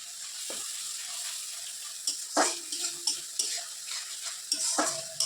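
Spices fry with salt and chili powder in a pan for a ghugni curry: a low, steady sizzle under a run of scraping stirring strokes that come in short bursts, with no one talking.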